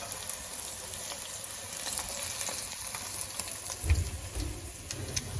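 Fish frying in a pan gives off a steady, moderately quiet sizzle of oil that runs throughout, with small crackles and a brief louder bump near the end.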